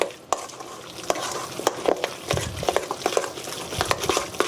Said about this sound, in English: I'm going to go ahead and add a tablespoon of heavy cream into our meat mixture. And we're just going to mix that up here real quick.